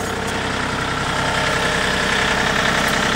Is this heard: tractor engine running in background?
yes